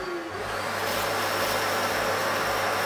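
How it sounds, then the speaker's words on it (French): An old vacuum cleaner and a power drill run together indoors, producing a loud, steady, broadband roar with a constant hum underneath, no voices heard. "Grâce à un bon vieil aspirateur et la perceuse à papa."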